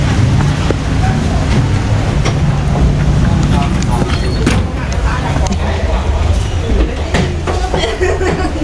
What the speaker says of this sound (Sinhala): ट्रेन එක නම් ආවා අපි ගිහින් බලමු